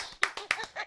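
Several sharp claps ring out close by in quick, uneven bursts, a short round of applause from a few hands.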